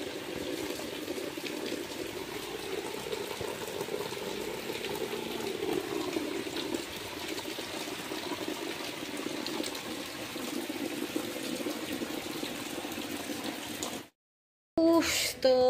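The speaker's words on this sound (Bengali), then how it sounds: "বৃষ্টি তো অনবরত চলছে চলছে, বন্ধ হবার নামই নিচ্ছে না।" Steady rain falls through a village night, a dense, continuous hiss and patter that holds evenly for about fourteen seconds before cutting out abruptly, with a brief burst of sound returning at the very end.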